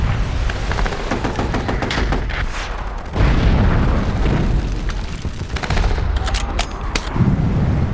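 WWII battle with mortars and rockets firing from every direction, a dense, loud barrage of booms and blasts rumbling continuously without any talk.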